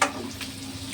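Potato pieces and green chilies frying in a pan, a faint, steady close sizzle with a soft stir at the start.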